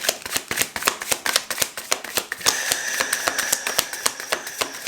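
Tarot cards are shuffled by hand in a rapid run of crisp riffling flutters and taps, close and alone, with a faint high electronic whine beginning midway.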